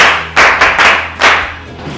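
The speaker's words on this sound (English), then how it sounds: "Clap for him." A group of people claps close by in a few quick, loud bursts for a student in a classroom.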